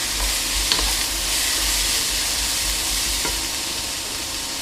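Sliced bell pepper sautéing with chorizo in a pan, a steady moderate sizzle running throughout with a couple of faint utensil taps, no speech.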